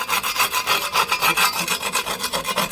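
Rhythmic rasping of a scraper working loose old paint off a surface outdoors, steady back-and-forth strokes roughly four per second, close and fairly loud with no talking.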